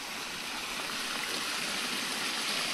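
Stream water flows through a culvert in a rural lane, a steady broadband rush that stays even and continuous throughout, fairly close with no voices.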